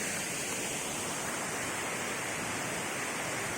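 Tiryani waterfall roars in a steady, loud, unbroken rush of falling water.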